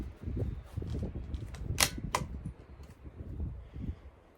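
A CZ457 .22 rifle fires a single Eley Tenex Biathlon round outdoors, giving one sharp, fairly soft crack near the middle, then a brief second snap over steady low wind and handling noise.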